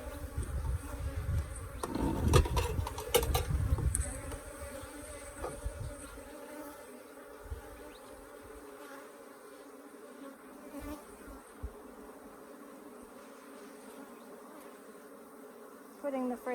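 Africanized hybrid honey bees swarm around an opened hive during an inspection in southern Arizona, a dense, steady buzzing drone that swells loudly for the first few seconds and then settles into a softer, continuous hum.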